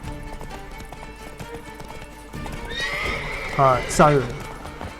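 A horse gallops with quick, steady clip-clop hooves and lets out a sharp neigh during horseback combat in The Witcher 3, while someone talks and mutters over the action.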